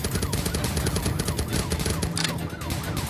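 Rapid gunfire bursts rattle continuously in a mobile police-chase video game, mixed with siren-like wails and dense game noise, loud and unbroken throughout.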